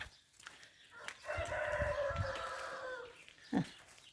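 A rooster crows loudly for a couple of seconds amid scattered hen clucks, with a short sharp cluck near the end.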